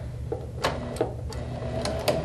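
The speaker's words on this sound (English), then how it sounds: "I'm going to sew my seams on the side" A sewing machine stitching the side seams of a piece of fabric, with short bursts of mechanical whirring and clicking separated by brief pauses, close and moderately loud.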